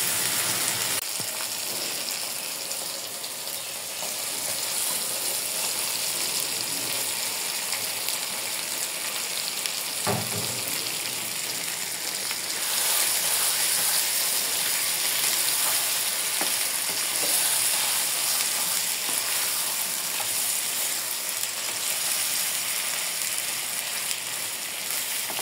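River fish fries in a pan of cooked spice paste with a loud, continuous sizzle. A sharp knock comes early on, and the frying grows slightly more intense later.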